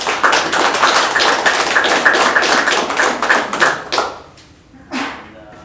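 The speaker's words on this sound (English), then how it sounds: "Big round of applause for those guys." An audience at a Xamarin IoT tech meetup applauds the sponsoring host company. Dense, steady clapping runs for about four seconds, then thins out, and a voice briefly follows.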